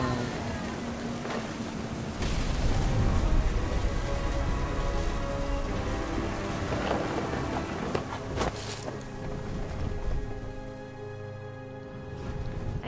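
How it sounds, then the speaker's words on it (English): Rain and thunder in the video game What Remains of Edith Finch, a dense continuous downpour with a low rumbling swell of thunder beneath, loud and close throughout. "The thunder sounded much too close and full of angry power."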